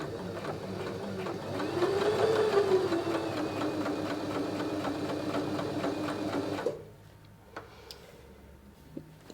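Sewing machine stitching a French seam joining the front and back of a cotton apron, running steadily with a fast rhythmic whir for most of the stretch, then stopping abruptly, followed by a few faint clicks and handling sounds.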